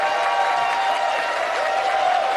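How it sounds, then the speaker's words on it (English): Steady, dense applause from an esports tournament audience fills the whole moment, a continuous wash of clapping from a crowd in the venue. "we want to hear some applause for all four of our teams"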